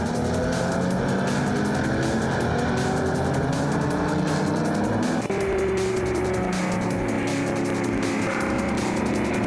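Historic racing cars, among them a 1973 Porsche 911 RSR and a Lola, race on a circuit under green-flag conditions. Their engines make a loud, sustained roar that shifts in pitch partway through as the cars power along, with no talk.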